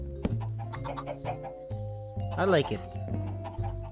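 Chickens cluck in a farmyard pen, with several short bird calls scattered over a steady hum while people talk throughout.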